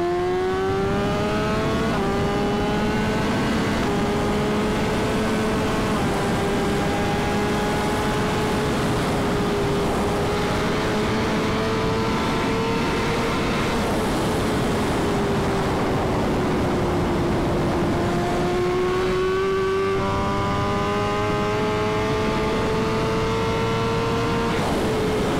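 A 215hp BMW S1000RR engine under riding, its strong harmonic tone rising and falling through gear changes and throttle shifts, loud and continuous for the whole stretch with wind noise underneath.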